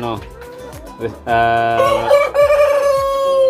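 A Rhode Island Red rooster crows loudly and close among hens, one long drawn-out call rising and holding over steady clucking and fowl chatter.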